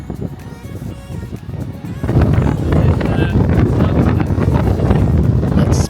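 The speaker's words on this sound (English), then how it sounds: "the first night we came it was extremely windy" Strong wind blasts across a hilltop at the Windmill Sunset Bar on Hydra, Greece, roaring and buffeting the microphone in loud, uneven gusts that surge harder partway through.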